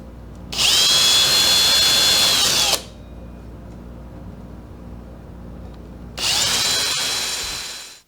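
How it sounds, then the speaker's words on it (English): Two bursts of a high-pitched power drill with a 3/16-inch bit drilling a recess, spinning up close, each lasting a couple of seconds, separated by a quiet pause. "Now a 3/16 drill should do it. And just drill a recess into that."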